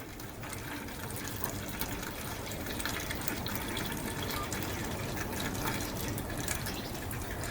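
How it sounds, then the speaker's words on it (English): Petrol runs from the fuel tap of a Lambretta scooter in a steady, continuous splashing trickle, close and even throughout, with no pauses. "So I'm going to time the fuel flow and then take the tap off."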